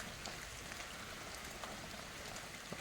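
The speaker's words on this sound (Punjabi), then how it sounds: "ਅੱਜ ਦੇਖੋ ਮੀਂਹ ਪੈਂਦਾ" Rain falls steadily and softly, a faint even patter of drops with occasional slightly sharper taps, no voices.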